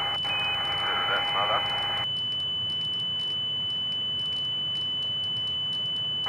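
A CO2 master alarm sounds aboard the Apollo 13 spacecraft: a loud steady electronic tone holds for about two seconds and then cuts off, leaving faint radio hiss with brief chirps.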